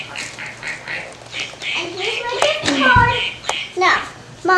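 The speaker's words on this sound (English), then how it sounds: "He's quacking." A duck toy or duck sound quacks in a few short, squawky bursts on a Christmas morning, mixed with a voice, rustling and hand noises close by.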